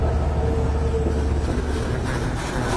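A Rajshahi-Dhaka intercity train rumbles past a railway crossing in a steady, loud, close roar, with some wind noise over it.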